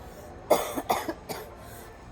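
Several short, dry coughs in a quiet indoor setting, spaced irregularly and fairly close to the microphone, with no talking over them.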